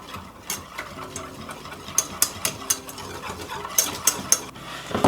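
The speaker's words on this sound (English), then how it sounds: "You whisk these together." Gingerbread muffin ingredients, including applesauce, whisked together in a bowl, a soft swishing stir broken by a run of quick, light clicks of the whisk striking the bowl's side.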